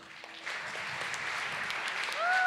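Applause from a church congregation, a steady broadband wash of many hands at moderate level that swells slightly toward the end.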